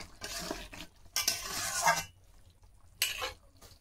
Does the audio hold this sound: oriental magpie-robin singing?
no